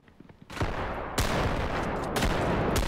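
Gunfire in a realistic first-person shooter game, loud broadband shots with a quiet lead-in followed by sharp reports at intervals over a sustained roar.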